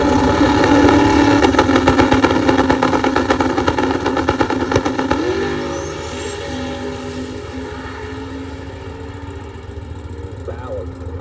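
A twin-turbocharged drag car engine runs with a loud, steady mechanical drone that gradually eases lower and quieter, with people talking faintly in the background.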